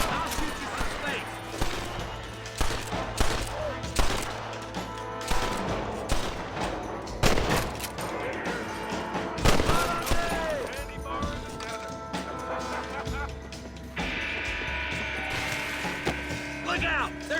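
Gunfire in a Red Dead Redemption shootout, repeated loud rifle and pistol cracks and ricochets over game music and character voices talking throughout.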